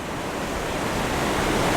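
Surf rushes up a sandy beach in Spain in a dense, steady hiss of breaking water, close and loud, with no voices over it.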